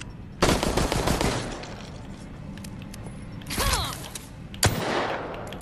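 Gunfire in Resident Evil Resistance: rapid automatic bursts rattle close and loud, with a pause, a second burst and sharp single shots near the end.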